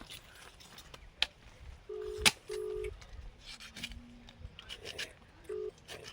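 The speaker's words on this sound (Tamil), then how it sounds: "குட்டிக்கு ஃபோன் பண்ணி கூப்பிட்றா, வருவான்டா." A telephone is dialed, producing several short electronic keypad tones spaced a moment apart over faint room noise and scattered clicks.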